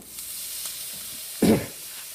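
Thai cilantro chicken searing on a grill, a steady close hiss of sizzling meat with one brief louder thump partway through.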